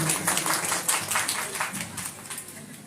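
An audience at an award ceremony for a short film applauds, a dense patter of many hands clapping at moderate distance, fairly faint and steady, with some voices mixed in.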